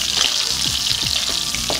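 Tilapia fries in a tilted pan with soy sauce and onion, giving a steady loud sizzle with a few liquid splashes as the sauce is spooned over the fish, with no voices.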